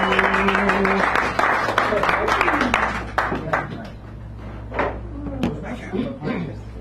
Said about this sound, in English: Give her a clap for ladies.